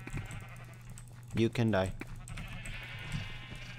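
A sheep bleats once in Minecraft, a loud, wavering blocky cry lasting about half a second in the middle, with a player talking over the game sounds before and after.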